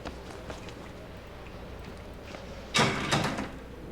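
A locked door rattles in the horror game Outlast, a short burst of loud rattling and knocking near the end after quiet ambient noise, with no talk over it.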